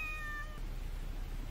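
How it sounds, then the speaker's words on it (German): A small cat gives a single short, clear meow at the start, faint and tonal over a low steady background hum. "willst diese kleine süße Katze wieder haben"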